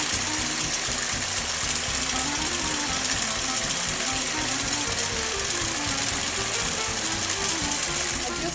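A longarm quilting machine stitches a king size quilt with a loud, continuous rapid mechanical whir and chatter, close and steady throughout, with a voice talking over it.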